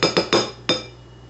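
A utensil knocks against a bowl while butter is stirred into ramen noodles, giving four sharp, close clinks in quick succession. The last clink rings out alone before it fades.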